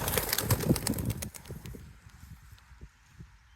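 A flock of eleven racing pigeons lifts off on a 13-mile training toss, a burst of flapping wings and scuffling close by at the start that thins and fades as the birds fly off, leaving faint outdoor background.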